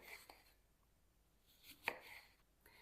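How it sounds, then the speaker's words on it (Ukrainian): Half a lemon cut with a knife for lemonade syrup, a few faint, quiet chops on a board with one sharper cut standing out near the end, no talking. "тепер нарізаємо пів лімончика"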